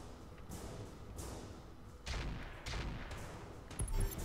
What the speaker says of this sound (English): Gonna shoot this turret and this turret